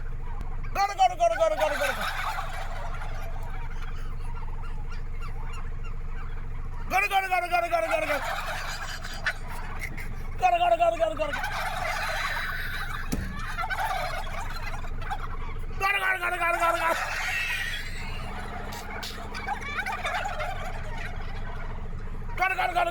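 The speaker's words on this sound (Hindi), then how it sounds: "जब उसने टर्की की एक सेना को अपनी कमांड पर गॉबल करने के लिए तैयार कर दिया।" A flock of turkeys gobbles on command, several loud rattling gobble bursts erupting together every few seconds over steady background noise, close and full.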